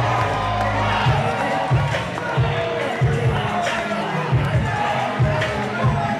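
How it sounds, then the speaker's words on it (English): A fight crowd roars and cheers after a first-round one-punch knockout in a super heavyweight bout at NFC 103, a loud, sustained wall of voices with rhythmic thumping bursts beneath it. "Crowd is on its feet."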